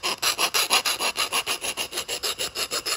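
A round file rasps burrs off a freshly cut copper pipe in quick, even back-and-forth strokes, about five per second, close and alone.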